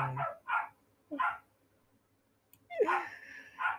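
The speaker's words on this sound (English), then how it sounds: "my dogs are making noise" Several sharp dog barks ring out close by in short bursts, with a pause in the middle before two more barks.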